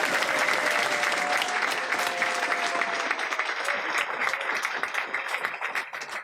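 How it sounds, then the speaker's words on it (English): A sustained round of applause from the audience at a UKIP political event in Bolton fills the room, loud and dense throughout with a slight fade near the end. "take a very well-deserved round of applause"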